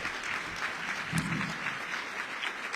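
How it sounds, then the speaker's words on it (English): Banquet audience at an annual justice fundraiser applauds the founder, a steady, moderately loud patter of many hands with a brief low murmur partway through. "We got to give another round of applause to the founder."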